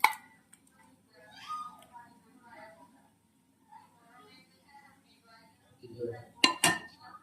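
Chutney for momos is scraped from a pot into a bowl, with scattered metal spoon scrapes and soft clinks under intermittent quiet talk, ending in a sharper burst of clattering.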